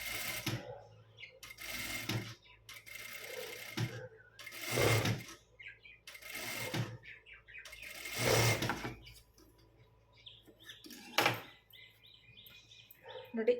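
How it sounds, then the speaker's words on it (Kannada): A sewing machine stitches lining fabric for the back neck of a blouse, running in short separate bursts of a few seconds each with quiet gaps between them, close and moderately loud. "ಪ್ಯಾಟರ್ನ್ ಲೈನಿಂಗ್ ಬಟ್ಟೆ ಮೇಲೇ ನಮಗೆ ಹೊಲಿಗೆ ಬೀಳ್ಬೇಕು"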